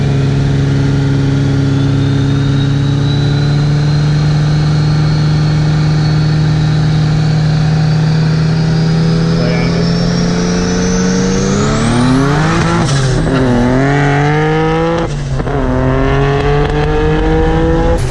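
A turbocharged car, a BMW 335i with an N54 engine and 17T turbos, revs and launches at a roll racing event in Brisbane. A loud, steady engine drone climbs in pitch, then shifts through gears with rising sweeps, close and without talk.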